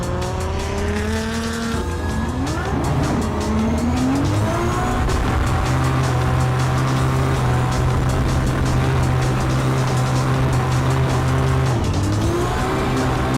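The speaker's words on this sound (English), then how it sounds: "Now that is a fucking drift." A car slides sideways through a corner with a sustained, loud tire squeal over a steady engine roar, the pitch of the squeal bending and shifting as the drift goes on.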